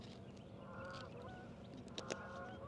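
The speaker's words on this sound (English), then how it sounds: "So, we got these geese coming right at us, man." Geese honk repeatedly over a reservoir, a faint, overlapping flock calling from a distance over steady outdoor background noise.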